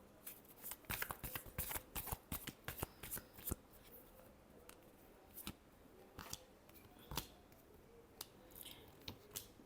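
Tarot cards being shuffled by hand at close range, a rapid run of crisp riffling bursts in the first few seconds, then softer intermittent snaps and slides, with no talking.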